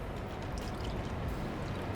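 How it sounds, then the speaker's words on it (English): Liquid poured into cocktail glasses while mixing cocktails, a soft steady stream of pouring, faint and continuous. "I'm gonna fill the glasses."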